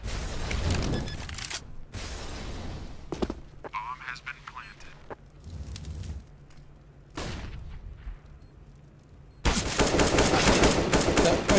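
Rapid gunfire bursts from a CS:GO pro league match, loud and dense at the start and again at the end, with quieter stretches of footsteps and game ambience between, under continuous excited commentary.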